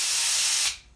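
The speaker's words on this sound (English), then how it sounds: "I'm just spraying Carb Clean down it and blasting with air" Carburetor cleaner sprays in a loud, steady hiss into a Keihin FCR carburetor from an early Honda CRF, then cuts off sharply and trails away into quiet.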